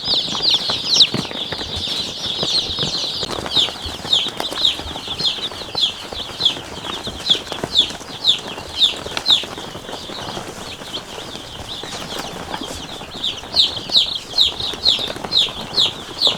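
A flock of about 500 month-old chickens clucking and chirping continuously, many birds overlapping with a busy, rhythmic chatter and occasional wing flaps.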